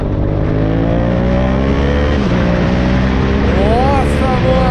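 A modified Yamaha MT-07 motorcycle revs and accelerates, a loud continuous engine roar with the pitch rising and falling, heard up close.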